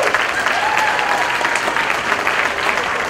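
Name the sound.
guests applauding bridesmaids at a wedding reception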